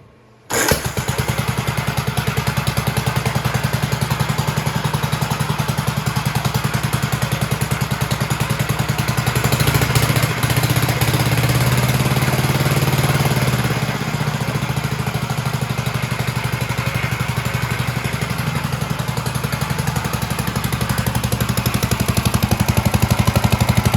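A 1958 Gravely Model L walk-behind tractor engine starts after a brief quiet moment and runs steadily, a loud, close, continuous clattering single-cylinder drone with no talk over it.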